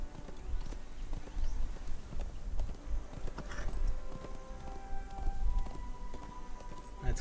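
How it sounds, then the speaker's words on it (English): A war steed gallops in the Lord of the Rings Online video game, its hooves clip-clopping in a steady, close rhythm over ambient game sounds and faint tones. "Thank God for the war steed."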